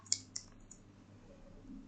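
A few quick keystrokes on a computer keyboard, two or three crisp, close clicks early on, followed by a low background hum.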